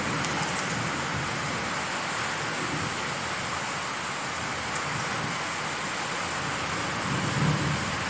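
Heavy rain pours outdoors in a steady, dense hiss that stays constant throughout without a break.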